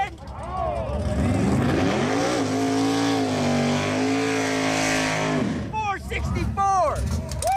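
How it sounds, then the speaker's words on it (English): A Ford Mustang drag car with nitrous launches and accelerates hard down the strip with a loud, sustained engine roar that rises in pitch. It cuts off near the end, followed by short bursts of exhaust and engine sound. "That little Mustang is rolling!"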